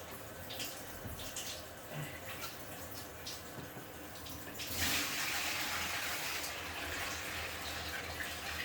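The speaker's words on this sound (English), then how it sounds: "As you can see, I'm basically bailing the fish tank out." Water sloshes and splashes in steady bursts, growing louder and fuller about halfway through as more water is scooped and poured, with no talking.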